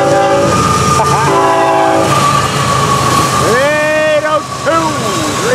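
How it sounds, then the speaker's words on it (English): A loud freight train, Florida East Coast train 101, rumbles past close by on a Wednesday morning, its horn sounding in several long blasts over the steady roar and clatter of the cars. "The morning train."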